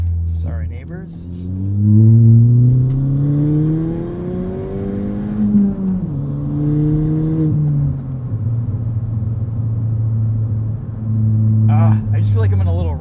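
A straight-piped 2017 Ford Fiesta ST on the road, heard from inside the cabin: a loud, raspy exhaust drone climbs and falls with each rev and shift, then settles into a steady cruising hum.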